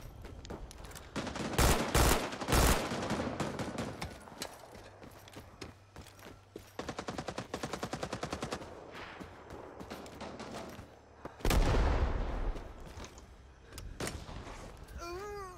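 Enemy gunfire in the Vietnam-era shooter Rising Storm 2 comes in sharp bursts and rapid volleys, some loud and close, others farther off, with ambient game noise between the shots.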